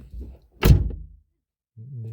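A door is shut with a single loud bang that fades over half a second, with quiet murmuring before it and a low hum returning afterward.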